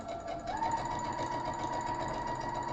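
A domestic sewing machine stitching a quilt block runs in one continuous, steady whir, its motor pitch rising slightly after a brief start and then holding even, close and clear with no talking.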